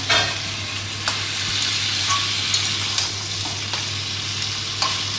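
Spices fry in a pan for Malabar spinach cooked with a hilsa fish head, a steady dense sizzle broken by occasional sharp scrapes and taps as a spoon stirs. The sound is close, with no voices.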